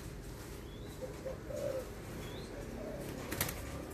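Thai spotted doves cooing softly amid steady background noise, a few brief low calls spread across the moment, fairly faint rather than close and loud.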